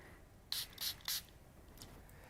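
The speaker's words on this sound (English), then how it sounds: "Spraying it on my hand." A small water mister filled with clean water sprays onto a hand at close range, three quick hissing bursts in a row with a fainter puff afterward, alone with no talking.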